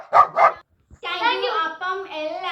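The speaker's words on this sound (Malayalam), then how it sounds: "ഞങ്ങളുടെ ആ വന്ന വീട്ടിലെ ഒരു പട്ടിയുണ്ട്." A dog at a house barks twice in quick succession, sharp and close, then after a short pause gives a longer drawn-out whining howl.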